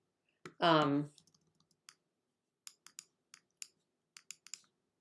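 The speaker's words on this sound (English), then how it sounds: "I'm just clicking, do you hear that?" Sharp, isolated mouse clicks during photo editing, about a dozen spaced irregularly across the clip, near and fairly quiet, with a brief burst of voice near the start.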